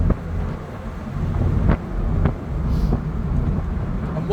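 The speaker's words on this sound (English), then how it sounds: "I'm cruising along on the A52, the top down on my Toyota MR2. Apart from wind, it's not noisy." Wind roars steadily past an open-top Toyota MR2 Mk3 cruising at speed on an A-road, a dense low rumble of buffeting with a few brief thumps and clicks, continuous and fairly loud.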